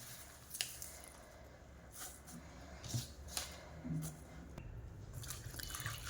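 Cold water splashes and trickles over muddy leafy greens set to soak in a bowl, soft irregular drips and splashes close by, fairly quiet, with no talking.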